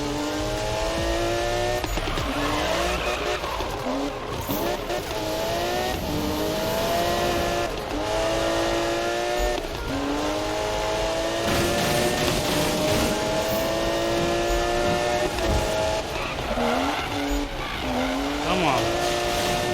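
A grip-tuned race car in Need for Speed 2015 revs hard through repeated shifts, its tires squealing and skidding through corners, and someone speaks over the engine at intervals.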